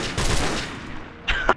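Gunfire in Modern Warfare Remastered, a short volley of shots early on followed by a sharper burst near the end, with mixed effects and no talking.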